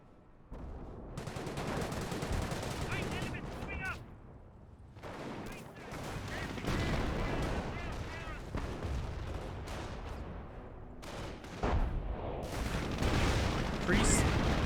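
An artillery barrage and gunfire from the video game Company of Heroes sound as continuous heavy booms and crackling shots at close range, mixed with game voice lines.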